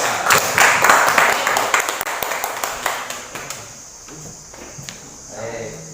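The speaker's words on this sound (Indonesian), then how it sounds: "Tepuk tangan untuk kelompok 3." Classroom applause for a student group presenting, a burst of brisk clapping from pupils that thins out and fades after a few seconds, leaving quiet room sound with a faint voice.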